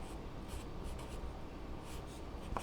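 A pen scratches steadily across paper as someone writes a math solution by hand, with soft, continuous strokes close to the listener and no talking.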